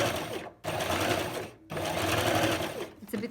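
A sewing machine runs in three close, steady bursts with short pauses between, stitching an invisible zipper into a skirt seam, the motor whirring loudly and evenly.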